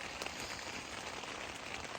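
Rain falls steadily outdoors on a windy morning at a lakeside camp, a dense even hiss with scattered drop patter and no talking.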